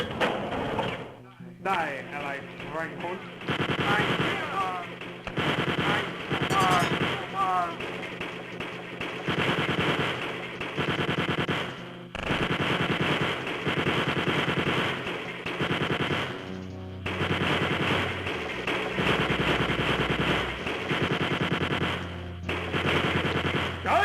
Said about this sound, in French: qui est Hitler dans une armure avec 4 miniguns